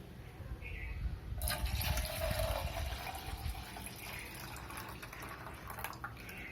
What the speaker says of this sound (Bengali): এরপরে এই দুধটা এর মধ্যে ঢেলে দেবো।